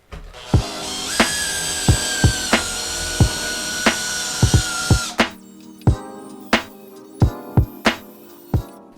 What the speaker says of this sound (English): And I'll put the drill on the lowest setting.